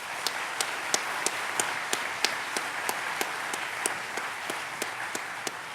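Audience applause at a 2018 BCSO awards ceremony held in a church, honoring staff and recipients: steady, moderately distant clapping from a crowd, with sharper individual claps standing out at a regular pace.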